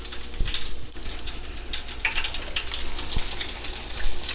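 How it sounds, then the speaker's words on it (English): A blooming onion, set blooming side down in hot oil, fries with a steady crackling sizzle, loud and close with a few sharper pops, and no voices. "you're gonna want to put your onion in blooming side down"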